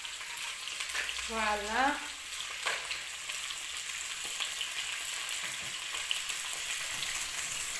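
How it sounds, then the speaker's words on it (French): Crab pieces frying with onions in a pan for a crab broth, a steady sizzle running throughout with a brief stirring scrape near the start; a voice speaks a single word. "On met le crabe avec les oignons."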